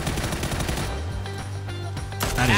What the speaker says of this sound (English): A couple of gunshots.